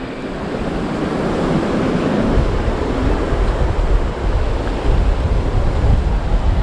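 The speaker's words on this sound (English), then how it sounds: "enjoying this coastal breeze" Steady coastal breeze and rolling surf on Tybee Island beach in Georgia, a continuous broad wash of waves with wind buffeting the microphone and no break throughout.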